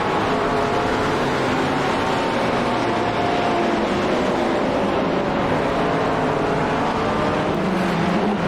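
GT3 race cars lapping the Hungaroring in the iRacing simulator, a steady loud engine roar with rising and falling pitch as the cars accelerate and shift, continuous throughout with no talk.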